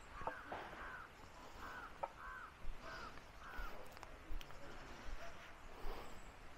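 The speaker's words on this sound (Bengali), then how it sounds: "পাখির শব্দ" Faint, distant bird calls, including a series of rough crow caws, drift over hillside ambience at a heritage bungalow in Takdah, North Bengal. The calls come in short repeated bursts, with some low background voices.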